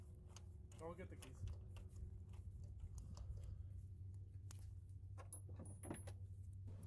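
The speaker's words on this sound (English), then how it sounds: "I'll get the keys." Keys jangling in a quiet garage during spark plug work, a few faint light metallic clinks and rattles over a low hum.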